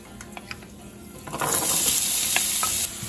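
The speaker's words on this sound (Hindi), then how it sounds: "ऑनियंस जब तक लाइट ब्राउन कलर आ जाते तब तक तलना रहता" Onions hit hot oil in a pan with a few cashews already frying, bursting into a loud, steady sizzle after some light clinks and stirs at the start, then cutting off sharply near the end.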